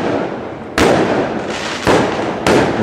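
Fireworks go off outdoors in a series of loud broadband bursts, about three sharp onsets each followed by a sustained crackling rumble, with no talking.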